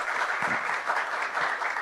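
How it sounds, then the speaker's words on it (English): A studio audience gives a round of applause to welcome a guest on an interview show, with dense, steady clapping that holds evenly for about two seconds and no talking over it. "Can we have a huge round of applause for Aisha?"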